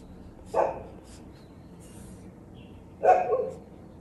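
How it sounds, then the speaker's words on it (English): Two small dogs give two short barks a few seconds apart, each a quick yappy burst, moderately near against a quiet room. "My neighbor has two small dogs, who often keep me company while I draw."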